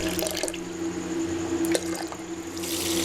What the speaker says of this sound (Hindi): और आड़ू जितना पानी डालेंगे